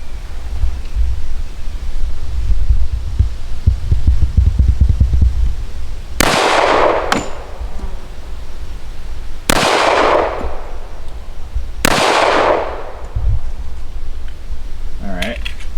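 A WWII Army issue Colt 1911 pistol fires four loud, sharp shots at irregular intervals of a few seconds, each crack followed by a brief decay, over steady background noise.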